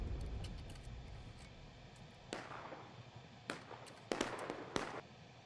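Cannon-style artillery fire in the Civil War battle game War of Rights: four or five sharp booms, some quick and close together, over a low rumbling background.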